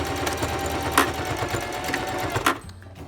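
A sewing machine back stitching fabric for a homemade face mask, its needle thumping in a quick, steady mechanical rhythm close by, stopping abruptly just before the end.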